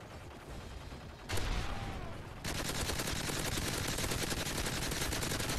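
Rapid bursts of automatic gunfire crackle nonstop in a survival video game, fast and dense, growing louder partway through, with no voices.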